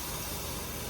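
Steam hisses steadily from a $29 Costco kettle smoker after water is added, a constant broadband rush filling the whole moment without pause or talk.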